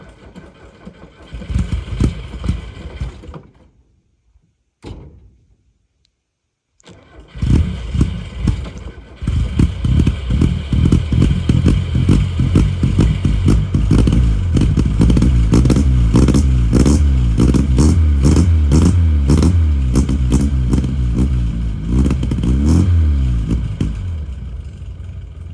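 A Lada 2107 engine cranks in short bursts, falls silent, then catches and settles into a loud, steady, clattering idle that keeps running throughout.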